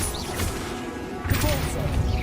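A Repulsor spell striking in Hogwarts Legacy, a dull crashing whack over constant game noise, partway through the clip. Speech is present.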